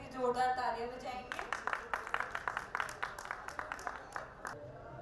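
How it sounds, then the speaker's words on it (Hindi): A crowd in a hall at an international Arya conference session breaks into a round of clapping right after a brief voice, the claps sharp and fairly even for about three seconds before fading out. "सभी जोरदार तालियां बजाएंगे."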